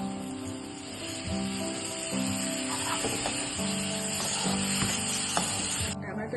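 Tomatoes dropped into hot oil for an Andhra-style prawn curry with eggs give a steady, close sizzle and spatter that carries through the whole stretch, with faint stirring clatter and no talking.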